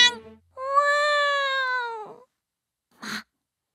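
A person imitates a cat, giving one long, drawn-out, pitch-bending meow up close, followed by a short breathy sound after a brief pause, with no other noise around it.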